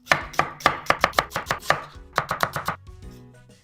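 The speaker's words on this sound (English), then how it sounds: "The next onion, I also need half of this as well. I'm also gonna cut into strips." A knife slicing an onion into strips on a cutting board, a quick run of about eighteen crisp, close chops in two bursts, with no talk.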